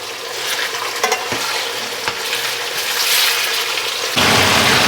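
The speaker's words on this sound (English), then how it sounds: "And then we're gonna put these back inside and let it all simmer down nice and soft" Meat with mushrooms, peppers and onions sizzles loudly in a pan, a steady close frying hiss with scattered stirring scrapes, swelling brighter near the end.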